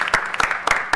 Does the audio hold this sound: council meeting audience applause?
yes